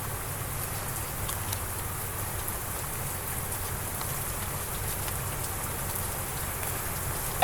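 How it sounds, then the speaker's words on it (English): Heavy monsoon-style rain pours steadily, a dense continuous hiss of drops hitting surfaces and foliage, close and unbroken for several seconds with no voices. "We don't ever get rain like this."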